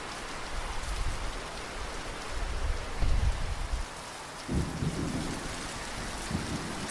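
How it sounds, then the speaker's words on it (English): Heavy rain hisses steadily, with low rumbling bursts underneath and no voices. "The rain poured relentlessly from the heavens"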